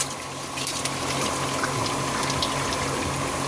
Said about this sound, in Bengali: এটা ঢেলে দাও না গো, এটা ঢেলে দাও।